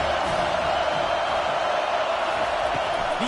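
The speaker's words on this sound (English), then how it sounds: "Decibels rising as the crowd gets behind this defense on 3rd down." Football stadium crowd at an Ole Miss versus Penn State game roaring steadily on third down, a continuous dense wall of cheering that stays loud and even throughout.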